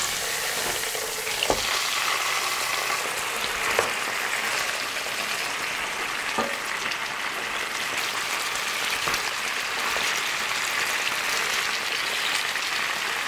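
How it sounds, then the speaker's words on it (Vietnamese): Chicken thighs frying in a pan over medium-low heat with a loud, steady sizzle and crackle, broken by a few light taps and scrapes. "Tiếp theo thì mình cho đùi gà vào và chiên với lửa nhỏ vừa."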